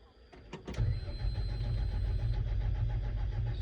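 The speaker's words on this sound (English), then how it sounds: "So we crank the engine right now." A JS220 excavator diesel engine, earlier failing to start, cranks with a few quick clattering turns, then catches and settles into a steady low rumbling idle, heard up close.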